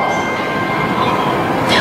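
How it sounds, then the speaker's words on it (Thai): A train rolls past a level crossing in Thailand, a loud continuous rumble and rattle of wheels on rails that stays close throughout and ends with a sharp metallic squeal. "the train is coming. When the train comes, if people are over there, they might die."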